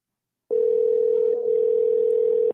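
A telephone line rings on an outgoing call: a single steady electronic tone lasting about two seconds, loud and clean, with silence before it.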